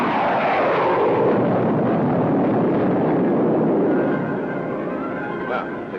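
In an old science-fiction TV show, a spaceship weapon fires and a loud, long explosion rumbles close and dense, fading slightly toward the end.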